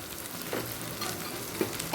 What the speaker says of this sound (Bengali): দু মিনিট হাই ফ্লেমে ভাজা হয়ে গেছে আমি এখন লোয়ে করে রেখে দিয়েছি দিয়ে দিচ্ছি ভর্তি এক চামচ পেঁয়াজ বাটা